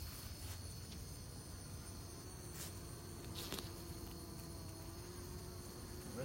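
Honey bees buzz around comb and hive frames, a continuous even drone with a few brief louder passes close to the listener, no talk.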